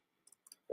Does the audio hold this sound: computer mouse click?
yes